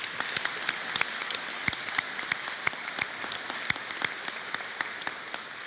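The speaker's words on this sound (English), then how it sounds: "Let's give one more round of applause for all of them." A thin crowd at a business hall of fame awards dinner gives award recipients a round of applause, with sparse, distinct claps pattering evenly for several seconds at moderate volume.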